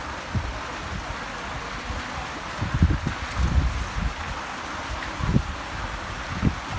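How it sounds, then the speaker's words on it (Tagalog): Strong wind at an outdoor wedding buffets the microphone with a steady roar and low gusty thumps, rising in a few stronger bursts. "Lakas ng hangin."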